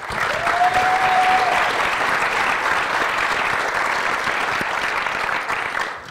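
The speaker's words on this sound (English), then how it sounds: "Applause before the talk is even better." Conference audience at a ShmooCon security talk applauding the speakers before a cryptography presentation, a full, sustained round of clapping that holds steady for several seconds.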